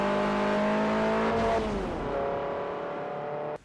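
Ford RS Cosworth engine in Forza Motorsport 4 on the Top Gear test track, revving hard and steady with a brief pitch drop at a gear change, then holding a loud sustained drone before cutting off.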